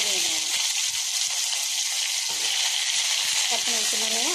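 Onions fry in oil in a pan for vegetable biryani, a constant bright sizzle running throughout, while a person talks over it at intervals.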